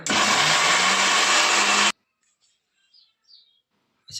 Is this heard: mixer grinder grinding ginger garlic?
yes